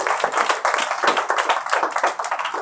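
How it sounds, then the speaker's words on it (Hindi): A church congregation at a Pentecost service claps loudly together, a dense, fast, slightly rhythmic burst of many hands close by with no talking. "इनके लिए जोरदार तालियां बजाएंगे।"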